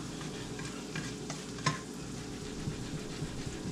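Fish roe fries in a cast iron skillet, giving a steady, close sizzle with light crackles and a few soft scrapes of stirring.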